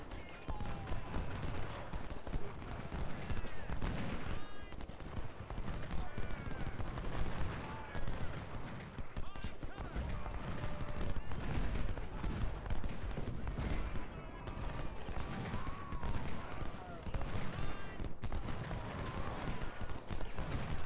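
Soldiers fire in the Ultimate General: Civil War strategy game: a dense, continuous crackle of musket volleys and distant booms rolls on without a break for the whole stretch.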